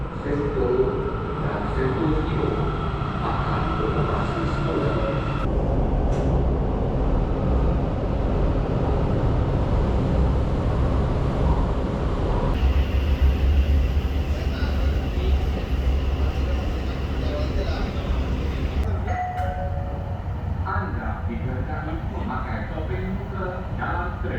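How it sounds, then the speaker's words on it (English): A loud, steady rumble of a metro train rolling in, with a rising electric hum and rail noise, then settling as it stops; speech sits underneath. "Here's my train."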